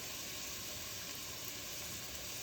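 Garlic, onion and ginger sear in a hot pan with a steady, soft, even hiss of sizzling oil, heard faint and alone without any voices.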